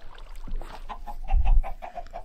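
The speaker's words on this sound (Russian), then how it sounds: "все эти курицы в маленьком загончике" Chickens cluck in a small crowded pen in Minecraft VR, a quick run of short repeated clucks over a soft background, with a louder burst partway through.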